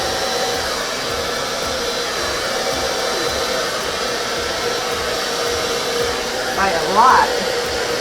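A powerful hair dryer runs on its low setting over an acrylic Dutch pour painting on a black background, giving a steady, loud broadband whoosh throughout, with a brief flutter near the end and a voice speaking briefly over it.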